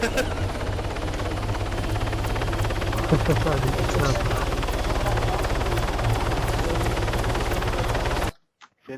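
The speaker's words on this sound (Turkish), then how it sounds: "tam da böyle helikopter e, üzerine geldi ha" A helicopter thunders overhead in Arma 3, with a steady, loud rotor roar and chopping throughout before cutting off abruptly near the end, with brief laughter underneath.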